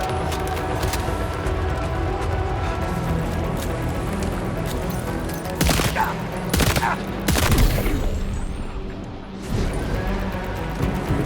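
Gunfire rings out in the video game Death Stranding 2 as bursts of shots and heavy impacts crack over a steady game backdrop, with the loudest volleys clustered in the second half.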